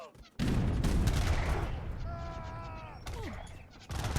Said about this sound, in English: Not a great shot by the light cannons there.